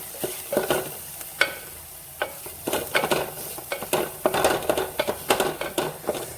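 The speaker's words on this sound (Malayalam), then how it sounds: "അപ്പോൾ സൈഡായിട്ട് ഇട്ട് കൊടുത്തിട്ട് നന്നായി ഇളക്കി കൊടുക്കാം കേട്ടോ" A masala mixture for a roll filling is stirred in a pan, repeated spoon scrapes and knocks over a low sizzle, close up and irregular in rhythm, with no voices.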